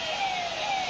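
Siren from ambulances stuck in a crowd during a Holi celebration in Mathura, a steady high-pitched electronic wail held briefly and fairly loud above a noisy background. Nobody speaks.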